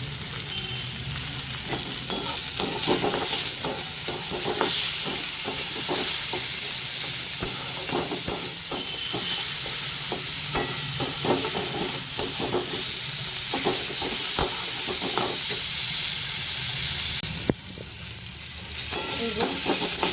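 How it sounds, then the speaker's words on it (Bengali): Potato, pointed gourd and pumpkin stir-frying with spices in a pan, a steady loud sizzle with scraping stirs throughout and a short dip near the end. "এবার আমি মশলাটা কষাবো"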